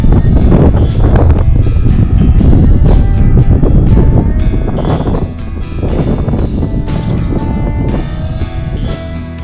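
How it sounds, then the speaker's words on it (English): Strong wind buffeting the microphone outdoors in New Mexico, a loud continuous roar with gusty surges throughout, no voices. "It's a little windy out here"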